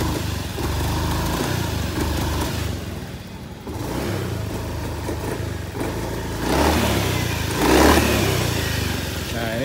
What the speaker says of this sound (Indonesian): Gas berbet.